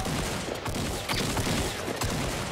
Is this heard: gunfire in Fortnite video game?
yes